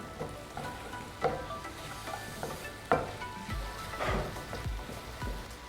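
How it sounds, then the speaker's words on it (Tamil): Onion, capsicum and tomato are lightly sautéed in a pan for a spring roll dosa filling, with a continuous rain-like sizzle broken by several scraping stirs and utensil knocks. "வெங்காயம், குடமிளகா, தக்காளி, ப்ளஸ் இதை கொஞ்சம் லைட்டாக சாத்தே பண்ணிக்குவோம்."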